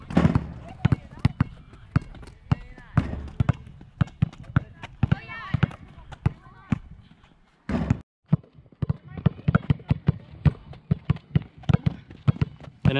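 A basketball is dribbled through an agility ladder drill on a court, with quick sharp bounces in a steady rhythm, close and loud, a brief pause partway through, and a coach talking over the dribbling.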